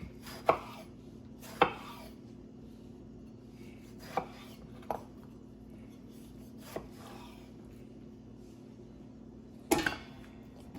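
Knife chopping vegetables for homemade spaghetti sauce on a cutting board, several sharp, separate thunks spaced irregularly over a low steady hum.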